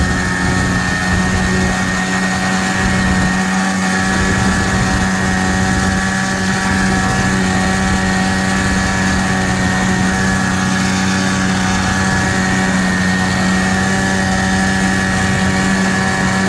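A small 35-40-year-old Evinrude 5 hp two-stroke outboard motor on a Zodiac inflatable boat drones steadily and loudly at top speed without a break, a buzzing engine whine over rushing water.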